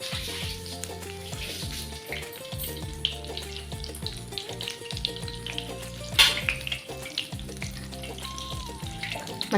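Brinjal bajji, battered vankaya slices, frying in well-heated oil, giving a steady broadband sizzle that runs throughout with some faint clinks and brief louder bursts of activity midway.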